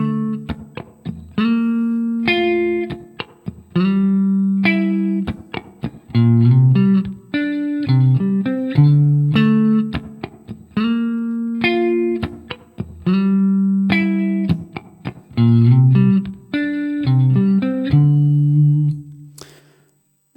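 A guitar plays a riff, clean repeated note phrases in a steady rhythm across several bars, loud and close with no talk.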